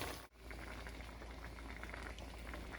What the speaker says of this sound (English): it's simmering